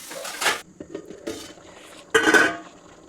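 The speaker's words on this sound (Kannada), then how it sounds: "ಈಗ ಪ್ಲೇಟ್ನ ಕವರ್ ಮಾಡೋಣ." A plate set over a pot of chicken biryani, with several clattering metal-on-metal knocks and scrapes of cookware in short bursts, the loudest clatter near the end.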